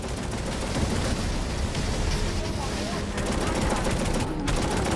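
Sniper gunfire in Necromunda: Hired Gun rings out from snipers in a dome ceiling above a citadel: a dense, continuous rattle of shots and impacts runs loud and steady across the whole stretch, with no voices over it.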